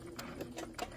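A sewing machine backstitching through velveteen gives a few quick, quiet mechanical stitch bursts close by, spaced unevenly over a short moment.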